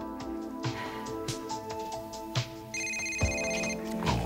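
A mobile phone ringtone plays during a toast among friends, a steady electronic melody repeating over the few seconds and sounding fairly close, with no talking over it.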